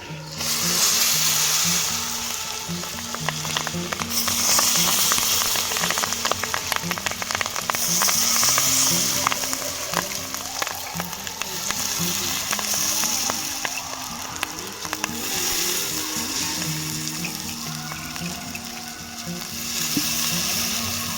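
Soaked rice frying with crab in a pan for crab jungle polao, a loud continuous sizzle with rhythmic scraping and stirring strokes throughout, close up.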